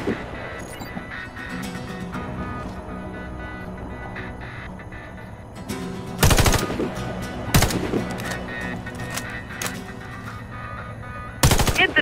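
Scoped rifle fire at targets in the shooter game Warface, with three loud, sharp shots standing out over a continuous background of game ambience and faint machinery noise.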